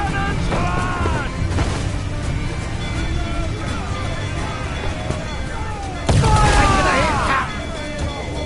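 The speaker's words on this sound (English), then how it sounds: "Uncork the cannons, lad!" Booming ship cannon blasts ring out amid a dense, noisy naval battle in Assassin's Creed IV: Black Flag, with shouting voices, a big burst of fire swelling near the end.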